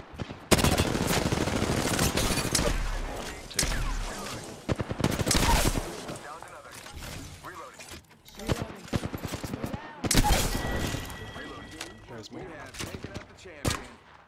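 Bursts of automatic gunfire and single shots in Apex Legends, loud and close in dense volleys, with pauses between firefights and voices speaking over the shooting.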